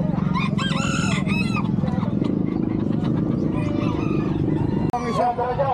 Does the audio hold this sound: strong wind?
no